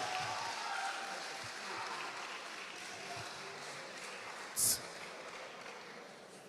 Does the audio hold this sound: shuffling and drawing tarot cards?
no